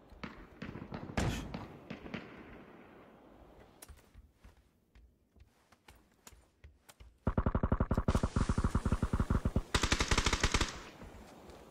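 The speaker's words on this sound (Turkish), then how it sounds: "Bizim oğlana sıkıyorlar." Gunfire in the video game PUBG: scattered single shots and short bursts, then two long, loud bursts of rapid automatic fire close by, with no talking over them.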